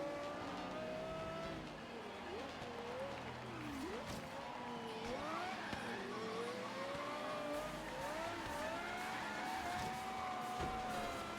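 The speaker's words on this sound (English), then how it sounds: "This is a fun car to drive." A car revs and shifts through gears in the racing game Forza Horizon 3, engine whining up and down continuously at moderate level, with occasional tire noise underneath.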